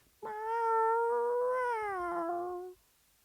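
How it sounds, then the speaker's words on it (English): A cat shut in a box gives one long, drawn-out meow with a rising then falling pitch, lasting about two and a half seconds, close and clear with no other sounds around it. "she hears him meowing"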